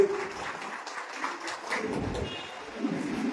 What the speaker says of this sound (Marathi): त्यांचंही एकदा आपण टाळ्या वाजून अभिनंदन केलं पाहिजे